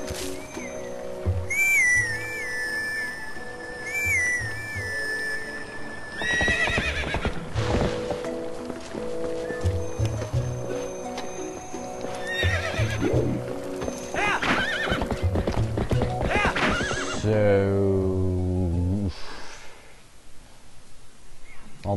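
Epona the horse in the video game Twilight Princess neighs and gallops with clip-clop hoofbeats over game music, whinnies standing out clearly across the stretch.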